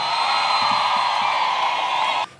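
A crowd cheers and whoops for Mutuse, a Kenyan leader, in a dense, steady roar that holds for about two seconds and then cuts off abruptly.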